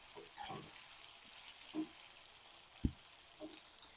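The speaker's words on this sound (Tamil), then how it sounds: "கல் உப்பு சேர்த்துருக்கேன். நல்லா வதக்கிக்கலாம்." Chutney ingredients with rock salt being sautéed in a pan, giving a faint, quiet sizzle with a few soft stirring clinks and one sharp knock partway through.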